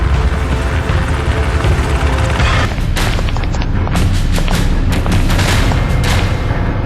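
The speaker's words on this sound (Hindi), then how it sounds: "इस बीच दूसरा हेलीकॉप्टर हवेली के ठीक ऊपर आकर आसमान में ठहर जाता है।" A helicopter hovers directly overhead above a mansion during a commando raid. Its rotor roar is loud and constant, broken by sharp booming impacts, with no talk.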